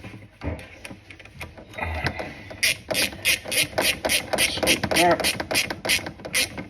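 A fitting being loosened during amateur plumbing work, heard as a run of sharp metallic ratcheting clicks in a steady rhythm, close and fairly loud, with a brief spoken word near the start.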